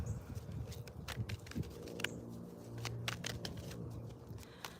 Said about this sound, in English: So let's go ahead and shuffle this up.